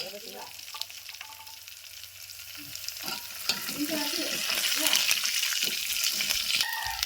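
Garlic fries in oil in a pan until golden, a soft crackling sizzle that swells louder and brighter toward the end, with brief stirring clinks and faint speech at the start.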